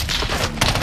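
Rapid automatic gunfire in Warzone, a brief, loud, dense rattle of shots with no talking.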